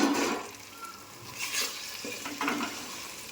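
Chicken frying with ginger garlic paste just added, heard as a close sizzle mixed with a few stirring and scraping strokes of a spoon in the pan, rising and easing in short bursts.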